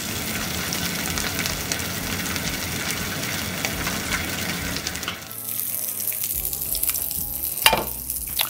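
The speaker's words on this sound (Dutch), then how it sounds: "we gaan hem nog heel eventjes bakken in de pan of op een plancha" Salmon fries skin side down in a pan, giving a dense, steady sizzle that drops off partway through, followed by quieter crackles and a few clinks.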